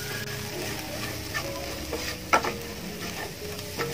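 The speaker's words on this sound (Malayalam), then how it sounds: "ഇത് നന്നായിട്ടൊന്ന് വഴറ്റിയെടുക്കാം" Chilli powder being sautéed in a pan for garlic pickle, with a soft steady sizzle beneath a spoon scraping and stirring, including one sharper clink in the middle and no voices.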